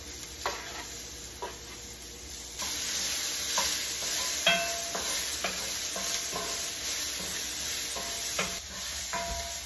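Jalapeno, onion, garlic and Fresno chili fry in a pan, a steady sizzle with repeated stirring scrapes and clinks throughout, growing a little louder partway, no talking.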